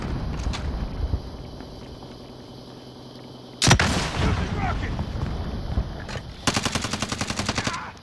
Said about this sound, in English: They're shooting at y'all.